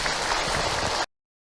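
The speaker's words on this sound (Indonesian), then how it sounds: "Lagi boleh tepuk tangan untuk Ahilman." Audience applause for Ustaz Hilman at a religious talk, a dense steady wash of clapping that cuts off abruptly after about a second.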